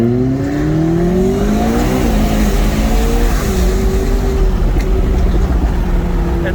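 A McLaren 12C sports car accelerates hard with a loud, steady engine roar. Its pitch climbs through the revs, dips briefly at a shift, then rises again.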